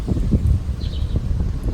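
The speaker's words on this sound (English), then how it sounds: "you I'm sure can hear the wind" Gusty wind buffets the microphone outdoors, producing loud, uneven low rumbles and thumps over a short stretch.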